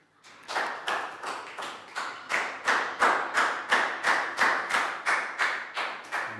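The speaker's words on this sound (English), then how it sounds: "Big round of applause for Dan." A small Year 3 English class claps for a pupil in a slow, rhythmic unison beat, about fourteen even claps building and holding steady, fairly close and loud with no talk.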